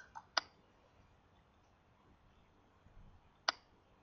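Two sharp, quiet computer mouse clicks, one near the start and one near the end, separated by near silence with faint room noise.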